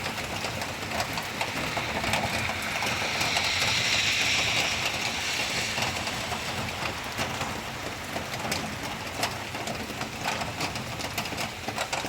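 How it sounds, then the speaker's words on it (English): Heavy rain pours down steadily during a thunderstorm in New York City, making a dense, continuous hiss with no pauses. "Listen to this rain coming down."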